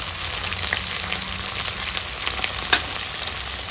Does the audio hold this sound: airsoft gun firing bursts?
no